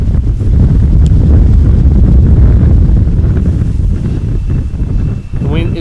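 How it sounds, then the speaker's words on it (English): Strong gusting crosswind at Amsterdam Schiphol airport roars and buffets the microphone in a loud, continuous rumble, easing slightly toward the end. "The wind is definitely not slowing down yet."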